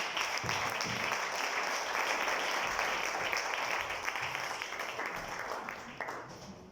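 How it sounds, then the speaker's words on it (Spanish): Church congregation applauding during a general morning service, a dense, sustained roar of many hands clapping in a reverberant hall, fading slightly toward the end. "démosle un fuerte aplauso a Cristo"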